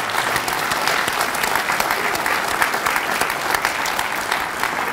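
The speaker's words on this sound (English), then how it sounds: "please stand at this time and let's give them a round of applause" An audience at a Miamisburg oath-of-office ceremony applauds the renovation committee, a loud, sustained, even wash of many hands clapping for the whole stretch.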